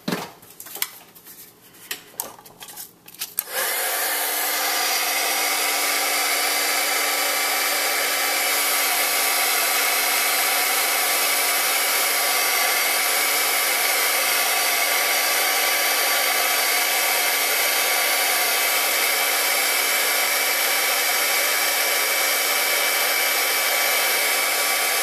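Heat gun melting Ranger clear embossing powder for a penguin snow globe craft. A few clicks and handling noises come first, then a steady, loud blowing whir runs unbroken to the end.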